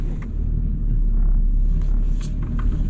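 A BMW 535 car driving under its own power after weeks of being pushed: a steady low engine and road rumble, close and continuous, with faint higher noises drifting over it.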